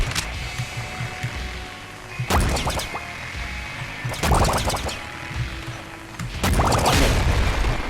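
Three loud booming explosions in the video game Nuclear Throne land a couple of seconds apart, each with a crashing, crackling burst over a rumbling, busy background.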